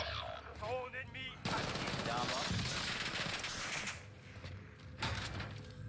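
Gunfire in Warzone Resurgence on PS5: rapid automatic bursts and cracking shots, loud and dense, mixed with game effects while players talk over it.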